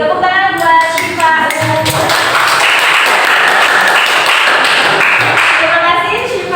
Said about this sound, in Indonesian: Tepuk tangan buat Syifa.